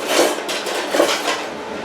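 Seasoning for chicken fried steak is mixed in a bowl, with two distinct clinks of a utensil against the bowl among scraping, rustling stirring sounds, close and fairly loud.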